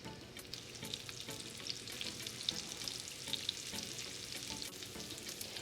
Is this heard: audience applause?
no